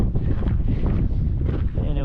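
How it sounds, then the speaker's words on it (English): Strong wind roars and buffets the microphone steadily on a canyon hiking trail, with gusts rumbling close throughout. "It's pretty windy today. We had some really strong gusts earlier."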